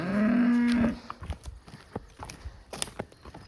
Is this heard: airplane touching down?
no